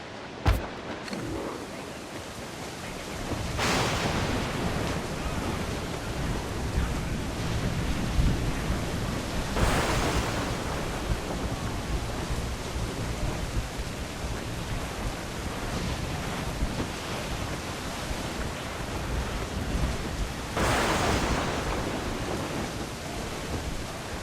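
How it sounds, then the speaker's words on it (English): Rough seas from the pirate game Assassin's Creed IV Black Flag roar as a dense, constant wash of storm surf and rain, with heavy waves breaking in loud surges every several seconds. "Dark skies and rough seas there!"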